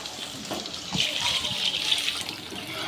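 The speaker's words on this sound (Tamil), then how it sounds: "இப்போ தேவையான தண்ணி ஊற்றிக்கலாம்." Water poured into a pan of eggplant curry, a close, gushing splash that swells and then runs on steadily for a few seconds.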